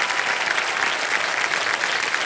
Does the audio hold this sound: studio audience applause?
yes